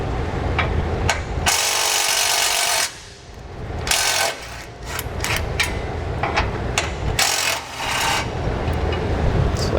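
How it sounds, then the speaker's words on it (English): An impact wrench with a 13mm socket loosens bolts on a 2017 Chevrolet spare tire support beam, loud buzzing bursts separated by short pauses, with clanking of metal between runs. "with a 13mm socket, we have our spare tire support beam here. We're going to loosen these 2 bolts"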